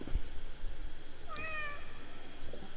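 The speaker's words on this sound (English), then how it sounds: "I better pet the cat." A cartoon cat in the video game Indigo Park lets out a single short, bright meow when petted, heard alone and close over a low rumbling background.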